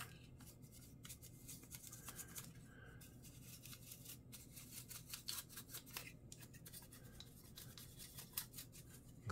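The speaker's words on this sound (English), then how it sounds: "if it's just simply dirty with debris, you can just take a brush" A small brush scrubs debris out of a car brake switch on a 2019-or-later Hyundai Elantra, a faint, close, rapid bristly scratching that continues in short irregular strokes.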